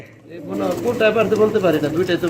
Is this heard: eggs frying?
no